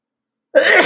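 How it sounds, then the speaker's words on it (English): A single sharp sneeze bursts out after a moment of silence, loud and close. "I got to sneeze."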